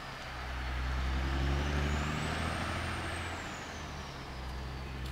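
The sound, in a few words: log truck driving by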